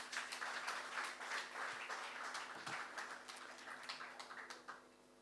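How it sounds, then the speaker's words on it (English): An audience at a formal development bank report launch giving a round of applause, moderately distant clapping that swells early then gradually thins and fades out. "kindly give the team and the bank a round of applause"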